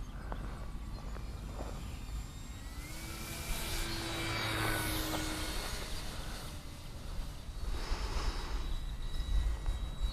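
Cirrus SR22T single-engine airplane droning steadily in flight, a continuous broad engine and wind roar heard from inside the cabin, swelling slightly toward the end.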